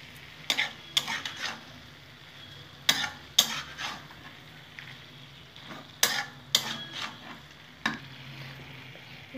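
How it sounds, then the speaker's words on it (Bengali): A spoon scrapes and stirs a vegetarian drumstick flower curry in a pan over a low sizzle, with intermittent clattering strokes close by and quiet pauses between them. "নাড়িয়ে নেব।"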